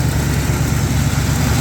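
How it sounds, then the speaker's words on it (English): A Squarebody Chevy engine idles a little high on a cold start, just after a steering box replacement, giving a steady, close, low mechanical hum with no pauses. "She's on a cold start right now, so it's kind of idling a little bit high"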